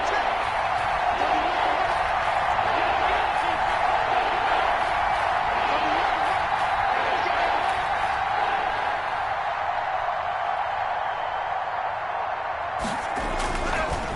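Dense stadium crowd noise at a Chargers football game as a big third down approaches, a loud sustained roar of cheering that holds steady throughout and cuts off abruptly near the end.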